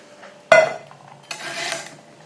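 Metal camping cook pans from a methylated spirits stove set clank together in one sharp close knock, followed by a softer scraping rattle as they are handled, with no talk.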